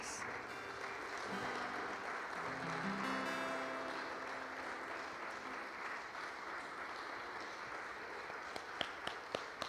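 A church congregation applauds together at the close of an evening service, sustained dense clapping filling the room, with a few sharper individual claps near the end.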